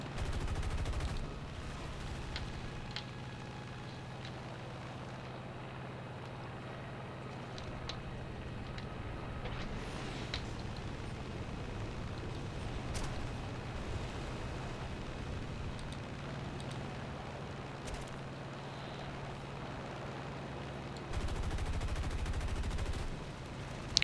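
Short bursts of aircraft machine-gun fire from a US fighter in the War Thunder flight game crackle faintly over a steady, low engine drone during a dogfight.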